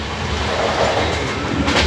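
On board a Mumbai-bound train, a close, steady rumble of the carriage running on rails continues throughout, with a faint rhythmic clatter of wheels and no talking.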